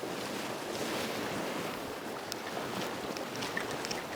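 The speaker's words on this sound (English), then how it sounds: "here goes the scary part of walking across the river with the camera" Someone wading across a river while carrying a camera, with continuous rushing water and splashing close by, broadband and steady, wind buffeting the microphone, no voices.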